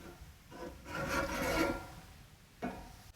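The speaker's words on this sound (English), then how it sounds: "I'm gonna take my spatula again and just kind of scrape it up as I go" A metal spatula scraping shrimp across the grate of a Big Green Egg grill: rough, rasping strokes that swell over a couple of seconds, then one shorter scrape near the end, heard up close with no talking.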